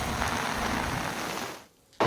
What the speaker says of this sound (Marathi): आज सकाळपासून पालघरमध्ये पावसाने दमदार अशी हजेरी लावलेली आहे